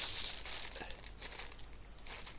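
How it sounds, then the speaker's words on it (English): A cardboard loot crate box being opened, with a brief loud tearing at the start followed by quieter crinkling and rustling of packaging, up close. "Hold on, just let me open the box"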